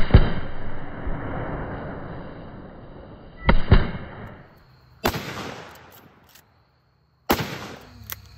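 Several loud, sharp gunshots from a lever action rifle fire one at a time, each with a ringing echo tail. Long gaps separate the reports.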